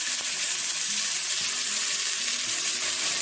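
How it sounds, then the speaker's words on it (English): Water poured into a hot pan of searing dumplings on the stove, giving a steady, loud, close sizzle that holds evenly throughout, with no talking. "You're going to add water and then cover it."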